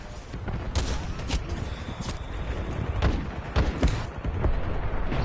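Gunfire in the shooter game Titanfall 2, a run of sharp shots spaced irregularly over a dense, busy background of battle noise, with no talking.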